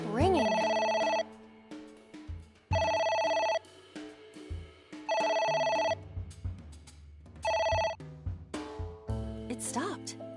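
Repeated electronic phone ring from AI: The Somnium Files, four insistent bursts separated by brief pauses, with game music underneath and a voice speaking between rings.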